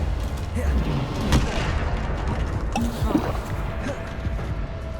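Bombarda blasting spell in Hogwarts Legacy, heard as a dense crackling blast with a sharp burst near the start and another deep boom midway, over rumbling low game noise.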